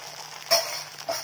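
Sambar egg kalakki mix poured into a hot pan and spread, a brief sizzle burst followed by a second, smaller hiss over a quiet background, close and moderately loud, no voices.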